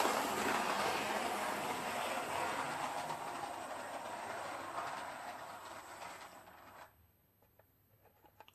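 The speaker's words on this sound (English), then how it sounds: "Now I'm going to show you while the train's going round." A small train rolls steadily along a track with a continuous hissing rattle, then the sound drops away abruptly near the end, leaving near silence.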